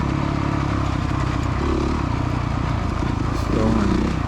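Motocross motorcycle engine on a hard-packed dirt track, throttle rising and falling unevenly with a brief rev surge near the end, loud and close as if from onboard, with wind buffeting throughout.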